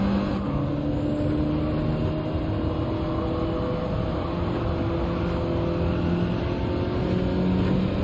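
A racing car engine in Gran Turismo 7 drones steadily at high revs for the whole stretch, a continuous loud motor roar with slowly shifting pitch and no talk over it.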